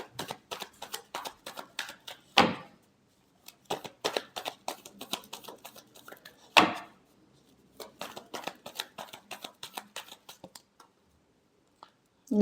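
Tarot cards being shuffled by hand, a fast run of crisp riffling flicks repeated in several bursts with brief pauses and two sharper slaps between them, close and fairly quiet with no talking.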